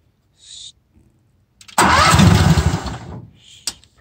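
Pow-r Mole PD-4 directional drill engine cranking briefly then catching and running loudly for over a second before dropping back, with small mechanical clicks before and after.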